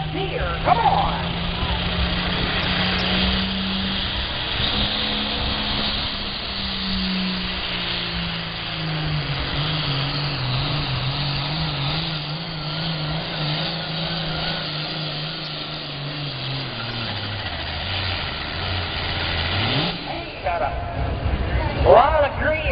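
A John Deere 4430 tractor at a county fair tractor pull roars with a loud, sustained engine drone that dips and rises in pitch as it works down the track, continuous for over twenty seconds with crowd and announcer noise over it.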